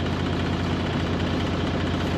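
A boat engine in forward gear rumbles steadily at a low pitch, a constant droning hum with no breaks, close by and fairly loud, on the Erie Canal.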